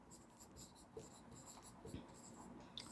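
Chalk or marker taps and scratches on a board during a Sanskrit class, a faint, quick series of short strokes in a quiet room.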